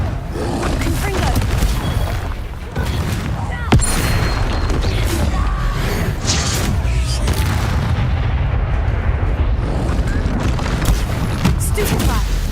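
Confringo blasting spells in Hogwarts Legacy, repeated loud booming explosions and bursts in rapid succession, dense and continuous over game effects, with a voice shouting spell names over the blasts.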